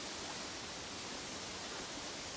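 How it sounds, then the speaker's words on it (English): Waterfall in Myst Online URU Live, a steady broadband rush of falling water, even and unbroken throughout at a moderate level with no voices. "The sound of the waterfall"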